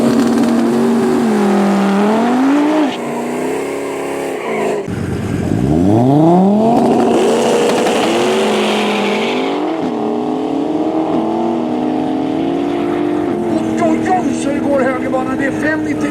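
Street drag race cars at Streetweek Sweden scream toward the finish line, loud engines rising in pitch through gear changes as they pass close by, with a commentator talking over them.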